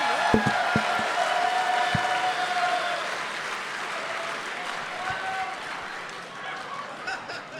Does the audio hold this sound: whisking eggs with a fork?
no